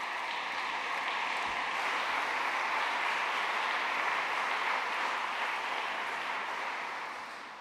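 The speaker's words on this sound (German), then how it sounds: "Ein ordentlicher Applaus." Sustained audience applause at an academic ceremony following a big band performance, a steady dense wash of clapping lasting several seconds before tapering off slightly at the end.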